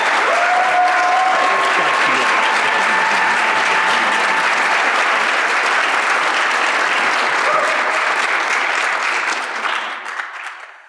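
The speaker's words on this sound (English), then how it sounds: "can we all give a round of applause to all of our grantees from" A room full of conference attendees applauds grantees at a youth activism panel, a dense, loud, sustained clapping that holds steady for about ten seconds before tapering off at the end.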